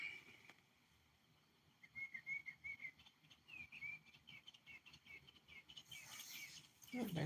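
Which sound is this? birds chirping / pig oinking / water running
birds chirping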